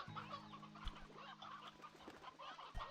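A rooster in the video game Slime Rancher 2 clucks in short bursts over a steady background hum, with a few soft thumps mixed in.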